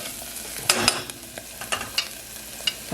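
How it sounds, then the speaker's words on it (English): Cooked mashed carrots being stirred in a pan, a steady soft sizzle broken by several scraping, clinking utensil strokes at irregular intervals, close and alone with no talk. "These are mashed carrots. They've already been cooked. I cooked them this morning. Move that around a little bit."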